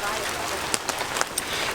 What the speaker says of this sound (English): We're going to get out of here because it is starting to rain